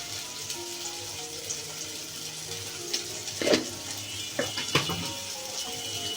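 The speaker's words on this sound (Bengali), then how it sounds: "এখন ভালো করে নেড়ে নিই।" Spinach with chili powder, turmeric and salt sizzles softly in a pan while a spoon stirs it, with a few clustered scrapes and knocks toward the end.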